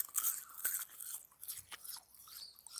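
Dried stinging nettle chips crunch crisply as they are bitten and chewed, a string of sharp, close, brittle snaps and crackles with short pauses between bites.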